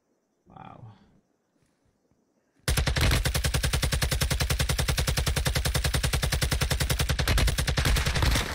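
Rapid, sustained automatic gunfire in a video game erupts loudly after a few seconds of near silence and a brief voice, firing as a dense, steady stream of shots until the end.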